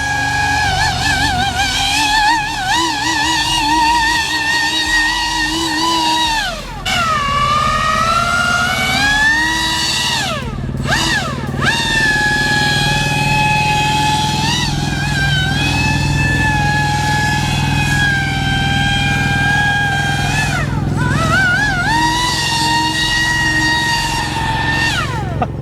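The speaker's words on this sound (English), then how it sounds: "Might as well just listen to the boat. That's a full throttle pass." A small high-revving brushless motor on a Pro Boat Aerotrooper 25-inch RC airboat screams at full throttle, its pitch rising and falling as it passes at night, loud and continuous with no talking.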